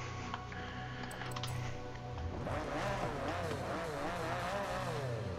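Ford GT GTLM race car in Forza Horizon 5, fitted with a racing twin-turbo V6, idling low and then revving up with rising engine tones, fairly close, with a voice faintly present.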